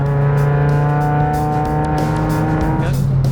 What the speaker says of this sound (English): It just keeps revving forever.